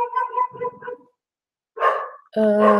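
A pet dog barks indoors during a live stream, a quick run of sharp yips followed after a short pause by a couple of louder, harsher barks close to the microphone, with a voice audible among them.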